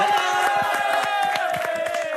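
An audience claps in a scattered, uneven rhythm, with a cheering voice and whoops riding over the sharp hand claps at a show finale.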